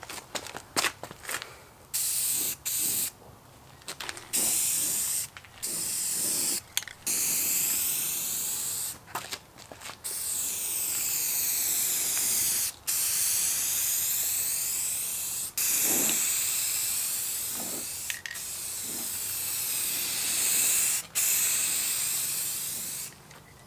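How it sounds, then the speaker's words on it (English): Bursts of spray paint hissing onto a Honda Civic Type R spoiler, loud and close, come in repeated passes of a few seconds each with brief gaps between them. "I'm gonna go ahead and just spray one light coat and then probably like another second and third medium heavy coat"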